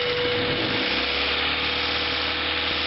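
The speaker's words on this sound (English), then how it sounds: "Let me rev it up a little bit." A 1992 Acura Integra engine, fitted with a faulty alternator voltage regulator, revs up from idle and holds a steady, loud broadband roar for a few seconds with no talking.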